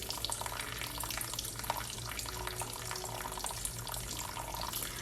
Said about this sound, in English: please make sure to keep the faucet running because you'll be turning that off later